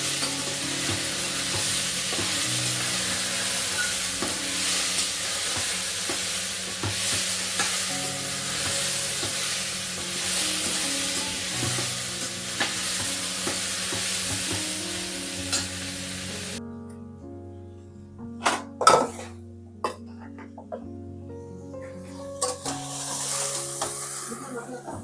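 Chopped vegetables and finely diced tomato are stirred and sautéed in a pan for a Marathi masala bhat, giving a steady soft sizzle, then a quieter stretch with a few scraping clinks of the spoon.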